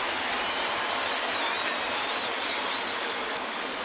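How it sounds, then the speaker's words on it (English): A baseball stadium crowd applauds a ten-time Gold Glove player, a broad, even wash of distant clapping and cheering from the home fans that holds steady throughout. "And the 10-time Gold Glover gets a nice round of applause from the home faithful."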